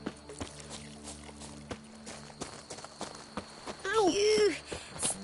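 Roach, a horse in The Witcher 3 video game, trots with rhythmic clip-clop hoofbeats under game music and voices, and a loud whinny-like cry rises near the end.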